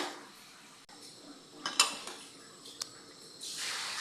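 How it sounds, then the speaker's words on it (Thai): A lid set onto a pot of oyster mushroom curry, with a couple of soft metallic clinks and a brief ring over a faint background hiss, close and quiet. "ปิดฝาเลยทุกคนเดี๋ยวรอสุก"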